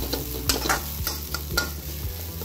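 Raw banana podimas is tossed and stirred in a pan, a steady run of scraping spatula strokes and light clatter over a soft sizzle, close and fairly loud, with no voices.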